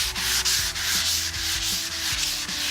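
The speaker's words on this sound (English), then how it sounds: "I'm only using a really, really lightweight sandpaper" Lightweight sandpaper rubs lightly back and forth over a front door in steady, even strokes, a soft rhythmic scratching up close with no voices.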